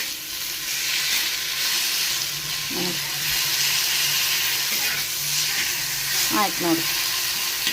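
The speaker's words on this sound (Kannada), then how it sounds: "ಎಣ್ಣೆ ಹಾಕಿ ಮೆಣಸಿಗೆ ಹುರಿದ್ನೆಲ್ಲ" Chillies sizzle in hot oil in a pan for a red chutney, a steady soft frying hiss with a few stirring scrapes, while a person speaks briefly over it.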